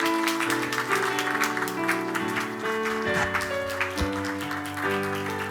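A church congregation claps during a baptism gift presentation at a Sunday morning service, steady applause under sustained organ or keyboard music that plays throughout.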